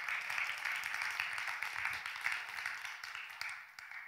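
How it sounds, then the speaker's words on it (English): Scattered audience applause, fairly faint and distant, a soft continuous patter of clapping that thins out toward the end. "You can applaud."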